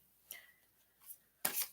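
Tarot cards being reshuffled close by during a quiet reading session, three short papery bursts, the last one loudest and longest, with silence between them.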